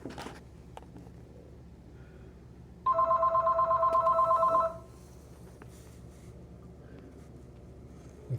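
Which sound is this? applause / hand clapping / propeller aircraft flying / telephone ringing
telephone ringing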